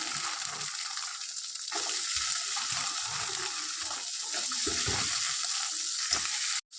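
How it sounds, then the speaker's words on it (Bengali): Chopped onions fry in oil in a pan with a soft continuous sizzle and occasional stirring clicks, fairly quiet and close, ending abruptly. "পেঁয়াজ একটু ভাজা করে নিয়ে দিয়ে দিচ্ছি"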